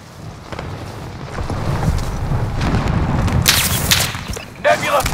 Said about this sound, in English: Nebula 5 bomb detonated in the distance.